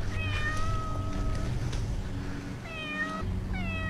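A stranded cat meows repeatedly during a rescue in stormy weather: several clear, drawn-out cries, close by, in two bursts with a pause between, over steady background wind or rain noise.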